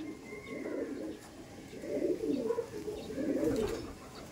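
Chennai Madrasi pigeons coo in three soft, throaty rounds at close range, each swell rising and fading with brief pauses between, no voices over them.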